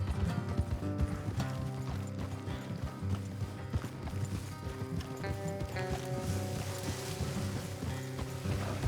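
Horse hooves clip-clopping along a road in the video game Red Dead Redemption 2, a steady rhythm of repeated hoof beats throughout, mixed under game music and ambient sound.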